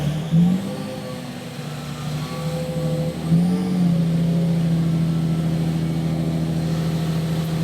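A car engine on a dyno, run with a richer air fuel ratio, blips a couple of times and then settles into a steady, loud, droning hum that holds without a break.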